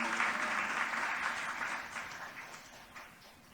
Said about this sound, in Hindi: एक बार थोड़ा सा तालियां बजा दो